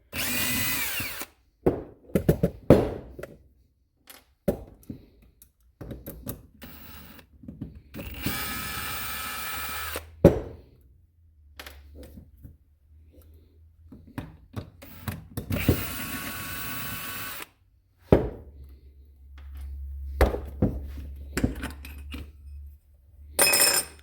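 A power drill whirs in short bursts, removing screws from a car starter solenoid's side cover, pausing between screws, with clinks and ratcheting of tools in between, fairly close.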